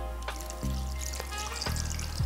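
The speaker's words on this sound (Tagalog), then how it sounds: "Dagdagan pa natin ng tubig." Water is poured into a pot of beef kaldereta, giving a close, uneven trickle and splash with brief gulps and drips. There is no speech.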